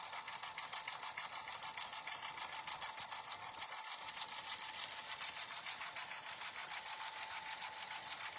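A sewing machine runs steadily while stitching a vinyl notebook cover, giving a fast, even mechanical whir with rapid needle ticks. It plays close, without pause and with no talking.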